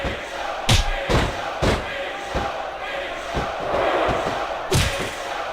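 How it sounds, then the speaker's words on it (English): A capacity crowd in a WWE SmackDown vs Raw 2006 wrestling arena roars throughout, with repeated heavy thuds and slams cutting through the noise and a commentator's voice over it. "It sounds like this capacity crowd has something on their minds, Taz."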